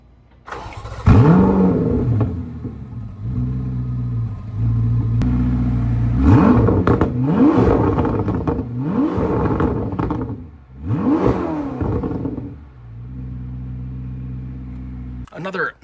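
A Chevrolet Corvette C8 ZR1 engine fires up and is revved repeatedly, several loud rising and falling roars between idling stretches, close and powerful.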